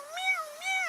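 A voice imitates a cat meowing: two clear, close, drawn-out meows in quick succession, with no other sound behind them.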